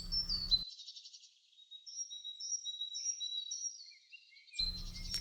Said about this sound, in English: Crows crowd amongst the branches of an oak tree, squabbling and hopping, squawking with childish noise.